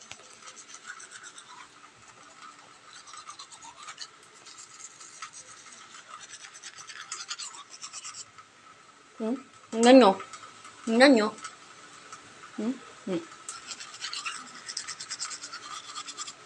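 A toothbrush scrubs in short, scratchy bursts, several brisk strokes close to the mic, between stretches of quiet background, with a voice speaking briefly.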